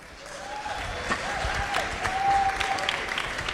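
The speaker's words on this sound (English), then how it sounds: "Can we get a round of applause?" A crowd claps steadily, building slightly and holding as a dense, medium-distance round of applause with a faint voice underneath.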